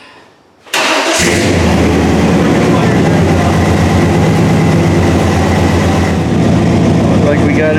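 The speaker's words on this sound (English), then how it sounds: "Prime the fuel pump a couple times, hit the key, and it fired right up." A 1997 Chevy Tahoe with a solid front axle, started after sitting for three years: quiet moments, then a sudden crank that catches and settles into a loud, steady idle that runs on without a break, recorded close.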